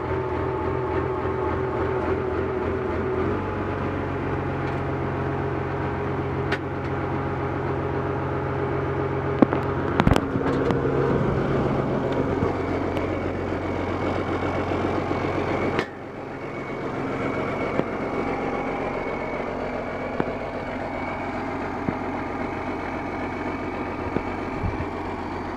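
Oliver 1855 tractor with 7,600 hours on an all-original engine, cold starting and then settling into a steady diesel idle, with a loud, rumbling throb, a few sharp knocks and a drop in level partway through.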